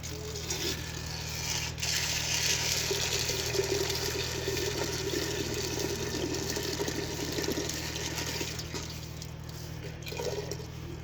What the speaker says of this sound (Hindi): पानी डाल लेंगे।